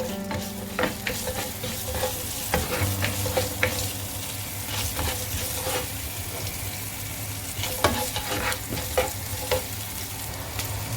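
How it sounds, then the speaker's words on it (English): Ginger, garlic and green chilies sautéing in a hot pan after the hing has crackled, for a North Indian paneer curry: a steady close sizzle with repeated scraping and clinking of a spoon stirring throughout. "I'll add my ginger, garlic, and green chilies. I'm going to saute a bit."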